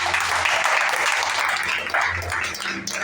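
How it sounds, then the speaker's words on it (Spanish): Congregation clapping during a Spanish-language church service: a dense, steady round of applause, loud and continuous for a few seconds. "Den un aplauso al Señor por eso."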